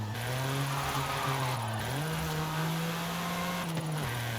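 A small JDM car in Forza Horizon 5, with a three-cylinder engine tone, holds a steady buzzing drone close up and briefly dips and climbs in pitch twice as it shifts gears. No one speaks over it.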